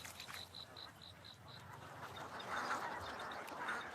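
Ducks on a rice paddy in Thailand give a quick run of evenly spaced quacks. Further scattered calls follow over a constant outdoor hiss.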